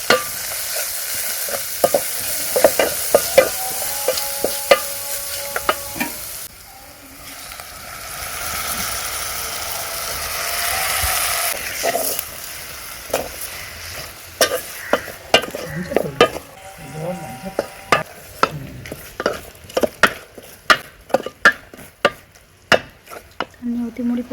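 Squid being stirred and fried in a pan with curry leaves, tomato and onion, with sizzling frying underneath and repeated scraping and clattering stirring strokes, steady at first then in bursts.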